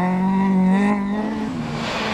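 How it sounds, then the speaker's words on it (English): A Vauxhall-engined Opel rally car slides on opposite lock along County Cork country roads, its engine note holding then dropping away, with a hint of tire noise as it passes close by. "Kieran opposite locks his trusty Vauxhall engined Opel around the County Cork countryside"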